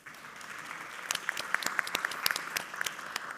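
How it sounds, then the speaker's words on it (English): Conference audience in Nicosia, Cyprus applauding after a presentation, scattered sharp claps building into steady applause, fairly faint and distant. "people in the audience are clapping at your presentation"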